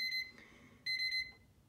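A Meross digital alarm clock sounds its alarm as two quick bursts of bright, high electronic beeping separated by a short gap, fairly faint and with no talking.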